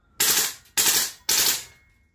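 A gun fired on automatic in three rapid, loud bursts, each a sharp rattling blast about half a second long with brief gaps between, heard close up with no talking.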